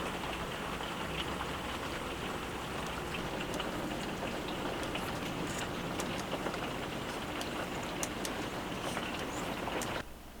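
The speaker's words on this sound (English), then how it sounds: "now the rain is really coming down" Heavy rain pours outside an RV at a boondocking spot, a dense continuous patter with crisp individual drop hits, close and steady, then easing slightly at the very end; no one speaks.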